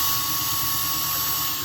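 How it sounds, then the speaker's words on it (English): Power drill boring a hole through a cloche lid, a steady high whining buzz held without pause, close and loud throughout. "Get a drill and make a hole."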